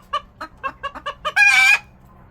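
Close, loud clucking from Fayoumi and baladi chickens, a rapid run of seven or eight short clucks followed by one drawn-out squawking call, then silence.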